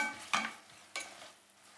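Monkfish medallions with garlic, chopped anchovies and salt sauté gently in a pan, a faint, low sizzle with two brief louder scrapes of stirring.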